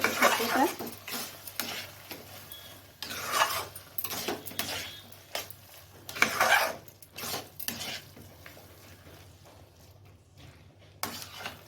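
Cucumber shukto being stirred in a pan, with scraping and clinking utensil strokes in uneven bursts, some louder and closer, over a steady low background hum.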